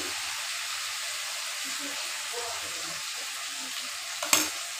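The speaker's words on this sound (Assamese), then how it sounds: "এতিয়া মই ইয়াতে আলু আৰু বেঙেনাখিনি ঢালি দিম" Potatoes and eggplant fry in masala in a pan, giving a steady soft sizzle with faint stirring, and a brief louder scrape or clatter near the end.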